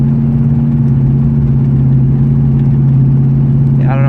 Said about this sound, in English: I don't know if y'all can hear that or not, but I have an exhaust leak.